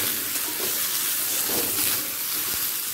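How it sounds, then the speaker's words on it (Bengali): Cut pumpkin and potato sizzle steadily in a pan over a medium-high gas flame, a loud, even crackle of frying that runs throughout with no talking. "গ্যাসের ফ্লেমটাকে মিডিয়াম টু হাইয়ে রেখে কুমড়োটাকেও 2"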